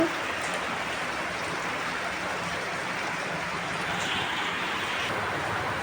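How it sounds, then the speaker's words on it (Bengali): Rain falls steadily in a dense, even hiss that stays constant throughout, close and moderately loud with no talking. "আমাদের এখানে বৃষ্টি হচ্ছে দেখতেই পাচ্ছ"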